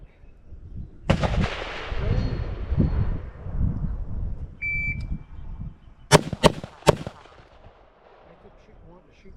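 Gunshots from a PSA JAKL 8.5-inch 300 Blackout rifle outdoors: one loud blast with a long rolling echo, then a quick series of three sharp, loud shots near the end.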